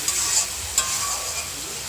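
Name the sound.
frying and stirring spice paste for katla fish curry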